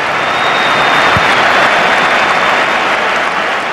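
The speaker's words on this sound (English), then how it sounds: "So good, even Real fans applauded." A large stadium crowd at the Bernabeu applauding Ronaldinho's goals, loud sustained clapping that fills the whole stretch, with a low thump partway through.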